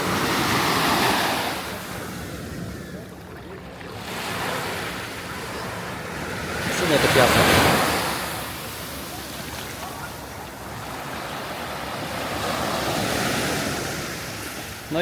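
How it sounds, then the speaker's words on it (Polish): Waves washing and surging onto a gravel and sand beach in Alanya in slow, fairly small swells, close by, with rushing wash and some wind noise, no voices. "Dzisiaj mamy nawet mniejsze fale."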